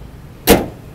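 The door of a 2019 Toyota Vios G automatic sedan shuts with one solid, close thud in an otherwise quiet moment.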